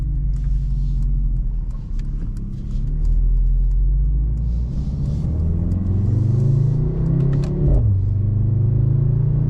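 Engine of a 2025 Mercedes-AMG C63 S while driving, a steady low rumble with scattered small crackling exhaust pops and a brief dip as it shifts, heard from inside the car.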